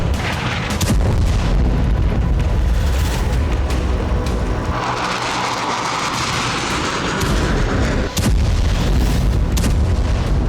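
Heavy explosions from Israeli strikes on Hezbollah rocket launch sites and weapons depots in Lebanon, a loud, continuous barrage of booming blasts and rumbling detonations with no pause over roughly ten seconds.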